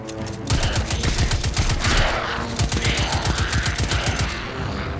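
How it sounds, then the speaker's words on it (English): Rapid bursts of silenced pistol fire ring out in Destiny 2, dense repeated cracking shots in quick clusters with brief gaps, loud and close. "Silenced pistol, huh?"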